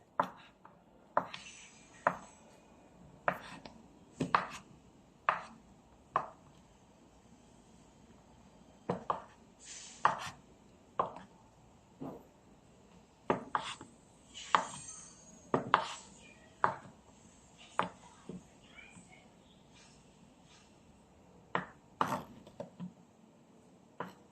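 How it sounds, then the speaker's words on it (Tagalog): A knife slicing cheese at home in a kitchen, with sharp clicks and taps against a cutting board in an irregular run of strokes, close and fairly quiet against faint room noise. "I'm going to slice the cheese."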